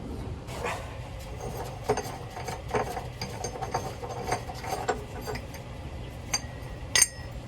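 Wrench and socket work on the rear subframe bolt nuts of a BMW E46 330ci, giving scattered metallic clinks and ratchet clicks at close range over a low steady hum, with a sharp clank near the end.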